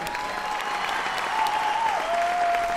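Studio audience applause on a Vietnamese New Year TV game show, a steady wash of clapping heard alone across the whole stretch, with a faint sustained musical tone running underneath.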